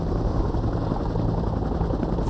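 A Bell Huey military helicopter flies close by, its rotor and engine making a loud, steady, continuous drone with a dense low thump that holds level throughout.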